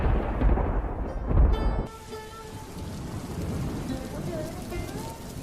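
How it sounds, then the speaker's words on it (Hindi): A heavy deep rumble like thunder in a cartoon storm fades into a steady hiss of hard rain, with faint tones rising through the downpour. "शाम होते होते तेज आंधी शुरू हो गई। देखते देखते बारिश की धारें बरसने लगी।"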